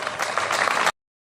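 Applause from a crowd at a rally award ceremony, steady clapping heard close for under a second before cutting off abruptly into silence.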